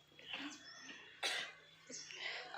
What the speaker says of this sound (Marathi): छोट्या मुलांना खोकला येतो